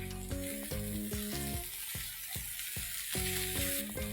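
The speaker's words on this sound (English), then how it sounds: "Just saute it for about 10 seconds" Onions sautéing in a hot pan with red chilli flakes and mixed herbs of oregano, rosemary and thyme, giving a steady close sizzle and frying hiss, with repeated stirring scrapes and taps throughout.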